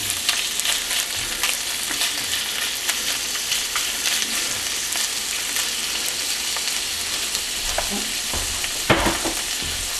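Hash fries in a pan with margarine or butter, a loud, dense crackling sizzle that runs steadily throughout, with occasional pops and faint scraping of stirring.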